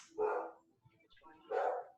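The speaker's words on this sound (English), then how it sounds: "I think you could hear my dog barking" A dog barks twice indoors, two short moderately loud bursts separated by a brief pause, with no talking over them.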